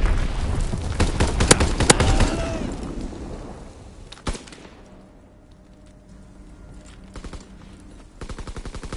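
Rapid gunfire and booming blasts from a battle with incoming mortar rounds, starting as a dense loud barrage, then a single sharp explosion, then a quieter stretch with scattered shots before bursts of automatic fire return.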